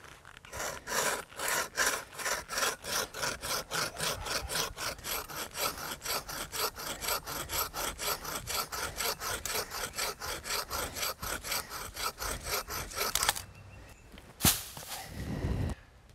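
A hand saw cuts through a large tree branch during pruning, steady rhythmic rasping strokes repeating quickly for about thirteen seconds, then stopping, followed by a few scrapes and a knock.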